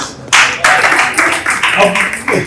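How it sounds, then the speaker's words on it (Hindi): A few scattered claps from a small audience at a Lahore tribute event for a singer, coming in short bursts with voices mixed in. "बहुत मेहरबानी से की साहब के लिए तालियां।"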